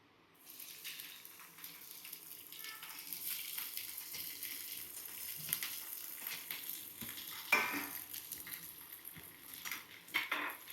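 Broad beans fry in a pan and are stirred, giving a faint, continuous sizzle with soft scraping and occasional clinks of a utensil against the pan.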